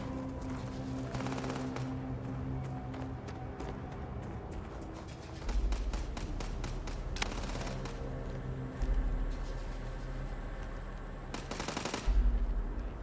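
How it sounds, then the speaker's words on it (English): Gunfire rattles from a firing range in Starfield, with bursts of rapid automatic shots and scattered single cracks over a steady background hum, growing louder in sharp volleys toward the end. "they're just shooting off bullets because they're drunk"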